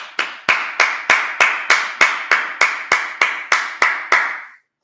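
Congregation at a Sabbath service clapping in unison, about a dozen sharp, evenly spaced claps with a short ring after each, close and loud, then silence.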